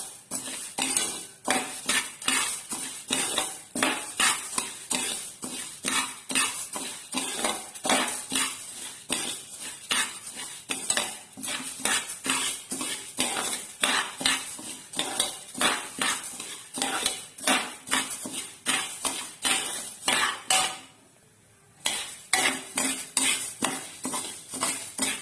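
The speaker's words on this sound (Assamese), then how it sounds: "7 মিনিট সময়মান এনেকৈ লৰাই থাকিব।" Spoon scraping and clinking steadily against a pan as masoor and chana dal are dry-roasted for khichdi, a continuous close rhythmic stirring with metallic taps throughout and one brief pause near the end.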